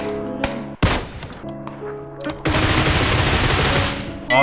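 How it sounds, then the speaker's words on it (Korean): Gunfire in PUBG, several bursts of automatic and single shots sounding at mid distance, with a loud sustained stretch of shooting toward the end, no voices over it. "잠깐 총소리 나는 곳에 가서 구경을 하고 오겠습니다"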